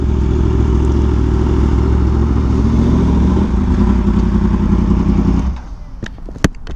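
A Yamaha R1M sport motorcycle engine rumbles steadily during a group beach ride, loud and continuous, then drops away abruptly near the end, leaving a few sharp clicks.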